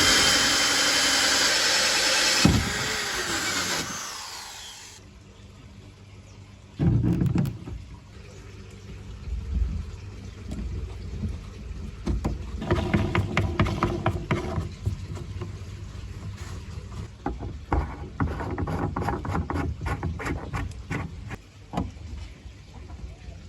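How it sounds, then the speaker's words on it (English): A drill fitted with a 38mm hole saw cuts a hole in a plastic aquaponics grow bed, a steady grinding whine that starts and stops, running on in rough bursts for a long stretch. "we've got a 38mm hole saw on the drill in order to cut out the hole for the 25mm bulkhead"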